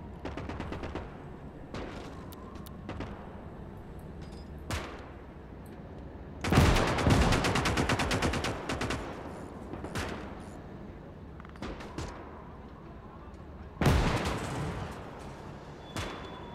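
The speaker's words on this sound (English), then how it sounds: "Yeah, that's a free machine gun." Heavy machine gun fire, close to a .50 cal, sounds during a Gates of Hell multiplayer battle. It comes as scattered shots, then two loud, rapid sustained bursts with distant battlefield rumble between them.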